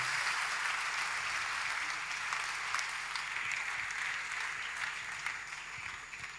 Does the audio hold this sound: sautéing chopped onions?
no